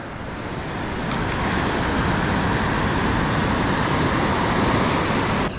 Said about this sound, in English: There's a lot of white water out there